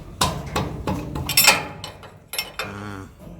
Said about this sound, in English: There we go, the nut is loosening.